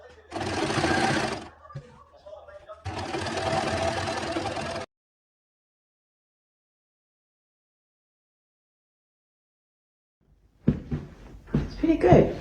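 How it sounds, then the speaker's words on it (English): Sewing machine stitching a pleat seam along the side of a fabric throw cushion cover, two close steady runs of motor whir and needle chatter, then silence before talking resumes. "the last step with these throw cushions is to do another pleat seam around the side"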